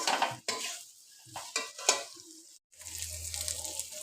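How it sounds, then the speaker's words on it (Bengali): Fried pointed gourd stir-fried with spices in a pan, scattered scraping and stirring clatters with quiet pauses, then a soft steady sizzle and a low hum toward the end. "পটলটা এখন মশলার সাথে নেড়ে ছেড়ে ভালো করে মশলার সাথে ভেজে নিতে হবে"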